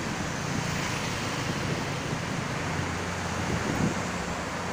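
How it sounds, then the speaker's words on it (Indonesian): Strong wind buffets across a toll road at dusk, making a loud, steady broadband roar with faint low traffic rumble underneath and no voices. "Ini anginnya cukup besar sekali di sini."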